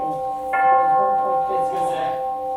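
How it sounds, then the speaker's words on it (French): A church bell beside the people's square strikes once with a clear, ringing tone that lingers and slowly decays, while people murmur faintly in the background. "C'est la cloche de l'église à côté de la place du peuple."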